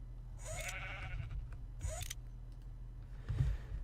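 Sheep in the game Minecraft bleat twice in quick succession, close and clear, followed by a soft dull thump in a quiet setting.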